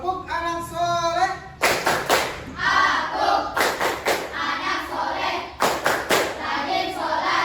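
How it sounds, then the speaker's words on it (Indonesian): Schoolchildren in a classroom chant the tepuk anak soleh cheer, a call-and-response clapping rhyme, with voices in unison and loud bursts of rhythmic hand claps between chanted lines. "Tepuk anak soleh"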